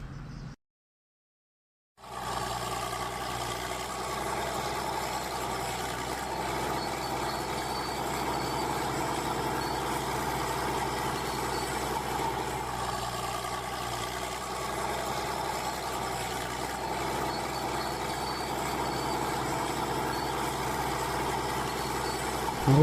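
A truck engine (a tempo) runs steadily while driving, a continuous low drone that starts after a brief silence and holds throughout at moderate level, with no talk.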